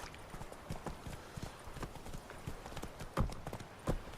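Roach, Geralt's horse in The Witcher 3 video game, gallops along in a steady run of hoofbeats that stay close and fairly soft. A few heavier thuds stand out near the end.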